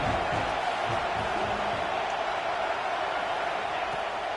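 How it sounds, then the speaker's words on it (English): Steady, dense video game stadium crowd roar during a college football game, Florida at Florida State, a constant wash of distant voices and cheering with no clear pauses. "This crowd bringing the energy and noise early."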